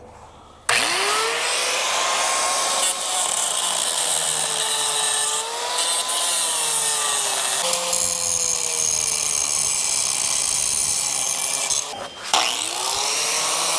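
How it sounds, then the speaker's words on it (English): An angle grinder cuts a welded steel C-channel off a boat trailer, running as a loud, steady high whine for most of the stretch, with brief dips in pitch as the disc bites and a short break near the end. "I'm just going to take that off with the grinder"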